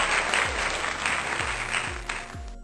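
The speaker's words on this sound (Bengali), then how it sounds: "গান শেষে তো হাততালি বন্যা বয়ে যায়" A crowd applauds after a song, a thick, even wash of many hands clapping for a few seconds, with a few low dull thumps underneath.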